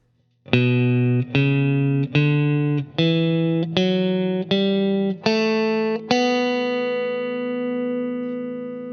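Guitar plucked in a Spanish style, playing a tune: seven steady ringing notes in a slow even rhythm, the last one left to sustain and fade, played alone and close with no talking.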